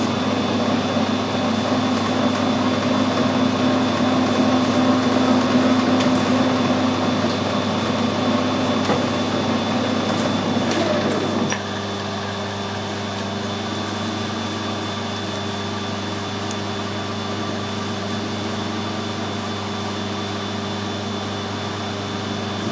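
A 6mm reamer cutting a nylon part on a machine, a steady mechanical hum with a tonal whine that drops away about halfway through, leaving a lower, quieter running drone.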